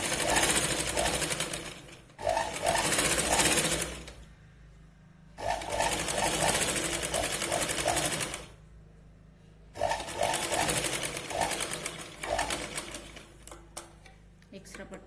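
A sewing machine stitches a strip onto a katori blouse, running in three long steady bursts separated by short pauses, loud and close.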